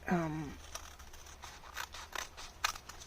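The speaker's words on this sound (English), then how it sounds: "I'm using my smaller scissors simply because I want to make sure I can get as close as I can" Small craft scissors cutting paper at a paper-bag gingerbread house project: a series of light, quick snips spread across a quiet room, close to the mic, after a short vocal sound at the start.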